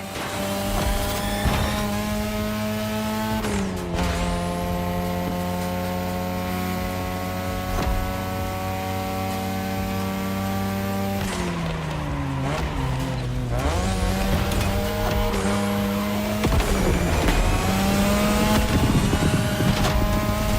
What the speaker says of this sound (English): Tonight, your ride is a third-gen 2002 Mazda RX-7. Lightweight, compact, a sick rotary engine, and one hell of a look.